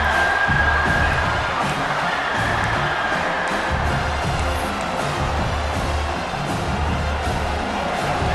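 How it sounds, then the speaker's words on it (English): A home stadium crowd in EA Sports College Football 26 roars continuously during a Bama football game, a dense, steady wall of cheering with no break. "this home crowd is fired up and ready to make a difference today"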